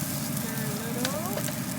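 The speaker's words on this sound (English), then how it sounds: "And now I'm going to put in the garlic and the ginger." Garlic and ginger sizzle steadily in hot oil with onion in a pan, a continuous close frying hiss with faint stirring.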